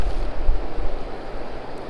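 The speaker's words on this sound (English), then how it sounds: "Hey, it's windy." Wind gusting across open water on a cold day of crappie fishing below an old dam, a loud low rumbling buffet on the microphone, steady and unbroken with no talk.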